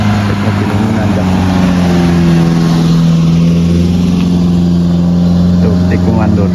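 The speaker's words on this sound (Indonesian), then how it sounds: "Mobil ini nanjak." A car climbs a steep, winding mountain road through an S-bend, its engine droning steadily and close throughout, with people talking over it.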